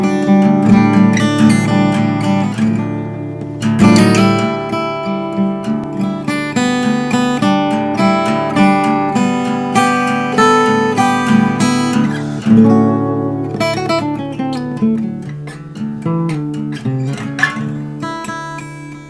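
Guitar recorded in Logic with its limiter plugin switched off, plucked notes and chords ringing out clearly and up close, alone with natural decays and uneven dynamics.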